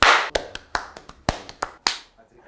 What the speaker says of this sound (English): I'm waiting to do the clap.